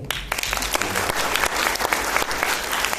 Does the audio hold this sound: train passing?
no